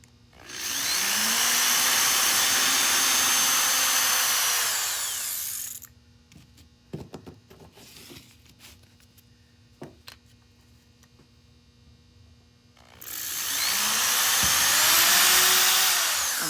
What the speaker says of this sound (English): So I'm drilling a hole in the top and the bottom.